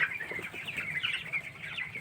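Young broiler chickens, seventeen days old, cluck and peep steadily in a poultry shed, a busy chorus of many birds close by with no voices over it.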